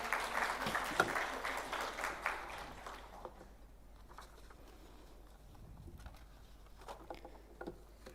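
Audience applause at a fintech forum, a brief burst of clapping that dies away after about three seconds, followed by faint scattered claps and quiet room noise.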